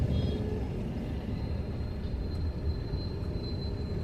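A congested road jammed with cars, bikes and a mini lorry gives off a constant low rumble of idling and creeping engines, steady and fairly distant, with no voices.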